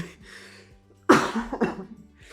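One sharp, loud cough from a person nearby, breaking a quiet stretch and followed by a shorter second burst.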